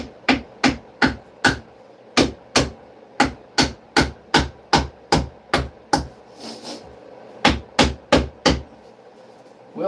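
Sharp impacts against a non-drywall wall board during water damage repair, as it is scored and snapped, come as a steady rapid series of close, loud knocks and cracks, pausing briefly near the middle before resuming.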